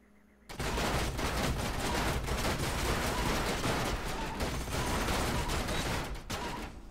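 Gunfire in Age of Wonders: Planetfall erupts suddenly into a dense, loud, sustained barrage of rapid shots and crackling impacts that runs for several seconds without pause.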